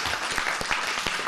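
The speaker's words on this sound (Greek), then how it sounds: "Χειροκροτήστε τους γονείς σας." An audience at a music school event in Karditsa claps for the parents: a short burst of dense, sustained applause from a room full of people, with individual claps standing out irregularly.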